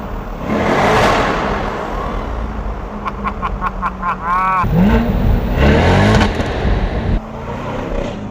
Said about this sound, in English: the exhaust sounds amazing from the outside